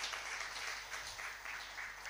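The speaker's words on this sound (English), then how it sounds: "With a round of applause, please help me thank and appreciate all staff of Plan International Ghana" Applause for Plan International Ghana staff at a community development close-out ceremony, a faint, steady wash of many hands clapping from a distance.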